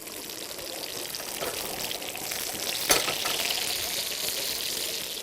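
Meatballs frying in a pan with sour cherry pulp added, giving a steady, close hiss and bubbling sizzle with one brief louder spatter midway and no talking.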